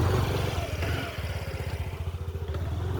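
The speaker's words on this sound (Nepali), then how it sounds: "ट्र्याक्टर" A tractor engine chugs nearby in Pokhara, Nepal, with a steady, rapid thumping rhythm and rattling clatter, loud and constant throughout.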